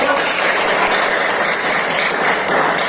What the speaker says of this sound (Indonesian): Ya, tepuk tangan dulu kita semua.